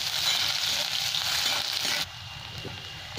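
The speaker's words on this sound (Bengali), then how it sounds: "পেঁয়াজটা একটু লাল লাল করে ভেজে নেব" Chopped onions frying in a pan with a continuous, fairly loud bright hiss that drops abruptly to a quieter sizzle near the end.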